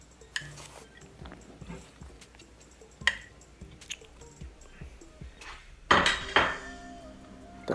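Chicken pieces are arranged in a metal cooking pot on an unlit stove, with scattered clanks, scrapes and clatters of meat and utensils against the pot, close and intermittent.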